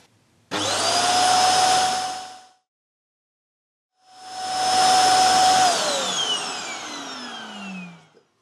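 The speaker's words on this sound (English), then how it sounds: "it will just climb on its charging dock and then the station will empty it for you" A yeedi vac station empties its robot vacuum with a loud suction whine that runs for two seconds, stops, then returns for about four seconds and winds down with a falling pitch, alone with no talk.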